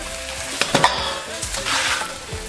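Chicken legs stir-fried in a wok for red-braised chicken, loud close sizzling with brisk spatula stirring and clattering scrapes throughout.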